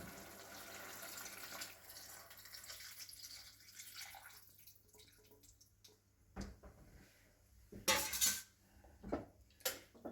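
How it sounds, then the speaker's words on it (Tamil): Tamarind water being poured into a pot of yellow pumpkin sambar: a soft pouring hiss at first, then quieter, followed by clinks of a utensil against the pot and a splashy stir near the end. "அந்த புளி அதில் ஆட் பண்ண போகிறோம்."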